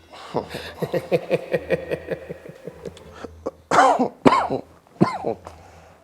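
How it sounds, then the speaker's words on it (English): Several harsh coughs and throat-clearing bursts in the second half, following a stretch of a voice talking, close and fairly loud. "Oh, I don't know where this cough came from."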